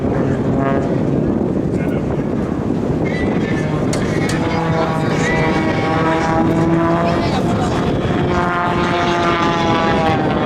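Red Bull aerobatic propeller airplane holding a torque roll at a military open house airshow, its engine droning steadily and loudly throughout with wavering pitch, over wind and crowd noise.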